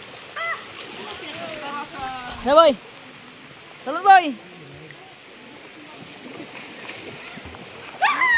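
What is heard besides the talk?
heavy rain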